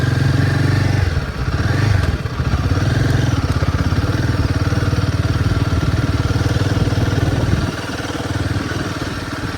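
A Royal Enfield Himalayan 450 motorcycle, 2025 Kamet white model, riding on a road, its steady loud engine drone and rhythmic thrum continuing throughout with a brief dip near the start and a slight drop in level toward the end.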